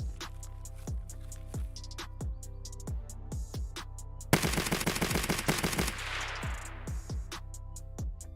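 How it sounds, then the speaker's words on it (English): AK-74 gunfire in the video game Escape from Tarkov: sharp single shots spaced at a steady pace, then a rapid automatic burst mid-clip, all over a constant low background hum. "I need to look up the AK-74 SU, because I'm pretty sure that's what that was"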